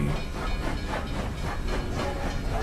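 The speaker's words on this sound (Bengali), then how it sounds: "ট্রেন ছেড়ে দিল।" A train pulling away from a station, heard as a dense, rumbling clatter with a steady hiss and a faint rhythmic clickety-clack, at a moderate level with no voices.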